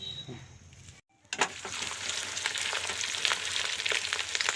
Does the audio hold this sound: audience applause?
no